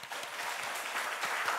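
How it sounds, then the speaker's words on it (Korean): Church congregation applauding the choir during a Sunday worship service, a steady wash of clapping hands throughout, fairly close and continuous. "우리 찬양대 박수 한번 할까요?"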